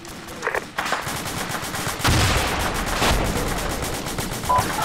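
PKT machine gun fire in a military video game, loud rapid bursts of shots hammering in quick succession, with heavy impacts and sustained gunfire filling the scene.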